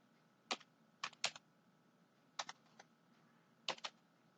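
Quiet computer keyboard typing comes in short bursts of a few quick keystrokes each, separated by pauses, close and faint in a calm room.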